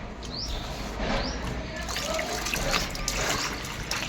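Water poured into an air cooler's tank outdoors on a hot day, a continuous close trickling and splashing flow with faint background birdsong.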